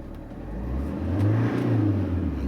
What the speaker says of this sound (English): as I rev the engine up